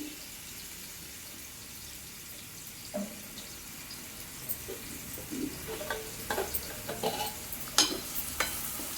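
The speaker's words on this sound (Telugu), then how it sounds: "ఇవి ఫ్రై అవుతున్నాయి." Food frying gently in a pan, a faint background sizzle that gives way to scattered clinks and scraping stirs in the second half.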